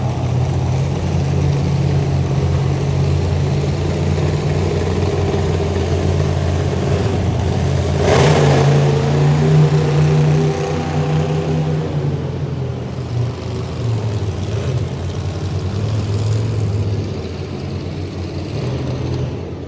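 Monster truck engines rumble and rev in a stadium arena, a loud continuous low drone with a swelling surge midway, heavy and close throughout with no voices.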